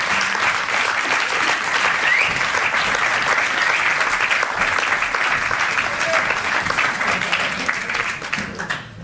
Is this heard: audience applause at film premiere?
yes